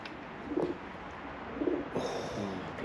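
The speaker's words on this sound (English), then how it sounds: "Bloody pigeon." A pigeon coos softly in a quiet, echoing room of an abandoned old hall, a few low muffled calls spread over a faint steady background hiss.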